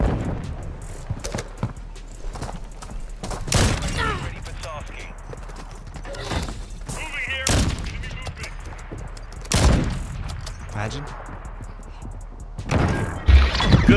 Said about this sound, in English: It's actually a sniper rifle.